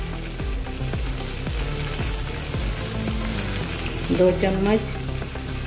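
Ketchup and chilli sauce spit and sizzle loudly in a hot pan for veg Manchurian, a dense crackling fry with stirring knocks, while a voice speaks briefly over it.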